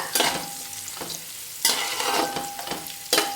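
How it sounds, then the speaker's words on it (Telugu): Sliced onions frying in a pan for mutton dum biryani, stirred in three sharp scraping bursts over a steady close sizzle, with no voices. "కదుపుకుంటూ వేయించుకోవాలి అప్పుడే పర్ఫెక్ట్గా మనకు ఆనియన్స్ అనేది ఫ్రై అవుతాయి"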